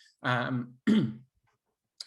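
Two harsh throat-clearing coughs follow one another, close and fairly loud, then silence.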